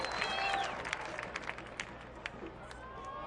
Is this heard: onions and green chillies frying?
no